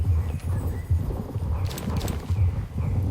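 Hooves of a magic horse in the Star Stable Online video game clip-clop in a steady rhythmic pattern, close and moderately loud against a busy game background, with no talk.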